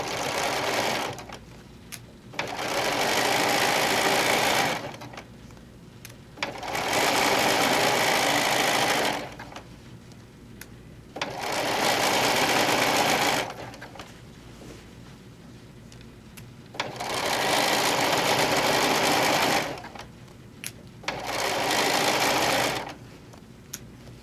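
A sewing machine runs in five bursts of steady stitching, each a few seconds long with short pauses between, sewing a zigzag seam on fabric for a camper-print machine cover.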